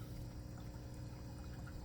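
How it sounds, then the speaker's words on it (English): Pumped water flooding an aquaponics grow bed, a continuous low rushing pour at steady level, faint and unbroken with no voices. "So as the water comes up, as you can see, it's coming up."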